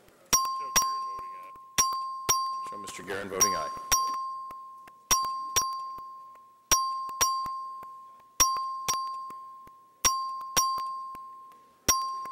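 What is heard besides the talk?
voting bell rung in House chamber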